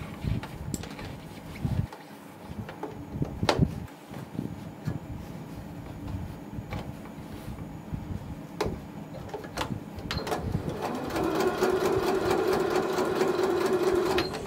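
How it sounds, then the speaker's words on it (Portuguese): Janome 1030 MX sewing machine with a straight quilting foot stitching folded ribbon: a steady mechanical whir with rhythmic needle clatter, a few thumps and pauses early on, then a louder sustained run near the end. "vou dobrar ao meio, vou colocar aqui e vou passar uma costura"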